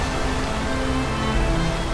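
Continuous hiss of falling water from Mawo waterfall, an even, full wash of spray and splashing heard close, with faint tonal traces beneath the roar.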